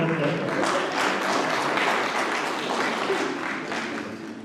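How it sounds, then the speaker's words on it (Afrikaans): A church congregation at a service claps together in sustained, dense applause that holds steady, then eases slightly toward the end, with some voices mixed in. "As julle lus om hande te klap vir hom."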